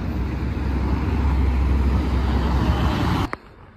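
A new Audi RS3 facelift passes on a Paris street, a loud, steady engine and road rumble that cuts off abruptly near the end.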